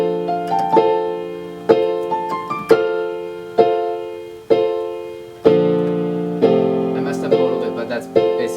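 Solo piano plays a melody from a concert tour finale, with clear struck notes and sustained chords in a slow, steady rhythm, close and moderately loud, with no talking.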